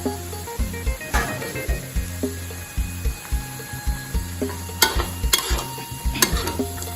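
Chicken tendon is stir-fried with curry paste and long beans in a pan, heard as a steady rhythm of close spatula clinks and scrapes over a soft sizzle, with a few brighter metallic knocks and no talk.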